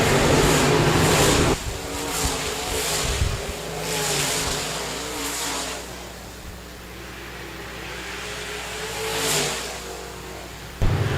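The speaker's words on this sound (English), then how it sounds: "Noteboom and Moore continuing to battle for that third spot." Modified race cars battling for position on the Park Jefferson Speedway track during a Memorial Day race, engines droning and surging as cars pass at a distance, with repeated rising and fading sweeps and no talk.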